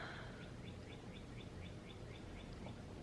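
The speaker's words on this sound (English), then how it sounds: "Can you hear the cardinal?" A cardinal sings outdoors near its nest, giving a steady series of clear, repeated whistled notes at a moderate distance over a constant background hiss.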